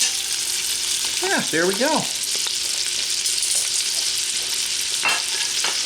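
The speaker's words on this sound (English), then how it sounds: "So now we're just going to let them saute for a few minutes." Beer brats sautéing in a large Instant Pot, a steady, close sizzle and hiss running throughout, with a man's brief remark partway through.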